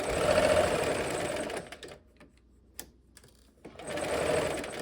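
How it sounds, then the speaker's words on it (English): Sewing machine stitching quilt pieces, a close, steady whir at the start, a quiet pause with a few small clicks, then another short run of stitching. "I like to sew with my needle down."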